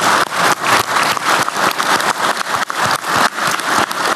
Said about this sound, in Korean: 우리 고생하신 총리님한테 박수 한번 드릴까요?